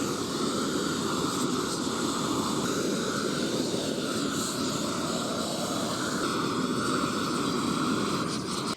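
A gas torch roars in a constant, loud jetting hiss with a steady tonal hum, unbroken for several seconds before cutting off abruptly.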